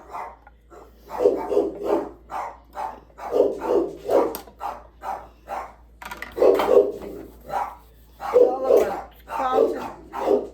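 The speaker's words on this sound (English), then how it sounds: "They see people walking down the street and they think they're Cujo. They gotta bark at them." Dogs bark repeatedly at people walking past on the street, sharp yaps coming in rapid bursts throughout, fairly loud and near, with brief yips between volleys.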